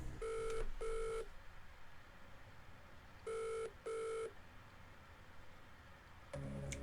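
Telephone ringing for the phone-a-friend lifeline in a Millionaire quiz game: two double bursts of electronic ring, a pause between pairs, then a third ring beginning at the end, over a low hum.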